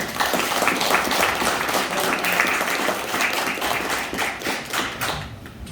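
An audience at a lecture on the ancient Gaya kingdom claps in a full, steady round of applause with some thumping taps, fairly loud throughout and fading at the end.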